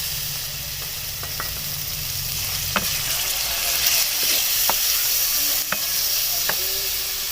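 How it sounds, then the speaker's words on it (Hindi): Chicken fries loudly in a pan as chopped onion and tomato go in, a strong steady sizzle and hiss broken by a few clinks and scrapes of a spoon against the metal. "अब हम इसके अंदर डाल देते हैं 1 प्याज कटी हुई और एक ही जाएगा इसके अंदर टमाटर"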